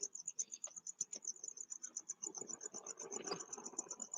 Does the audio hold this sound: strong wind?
no